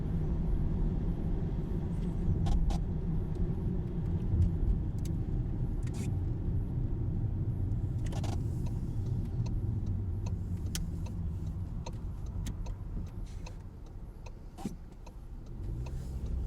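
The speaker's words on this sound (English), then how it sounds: "Nice gear change on the corner as well." Interior of a car on a driving assessment, turning right at a junction with a gear change: a steady engine rumble runs throughout, with a few faint clicks over it and no talk.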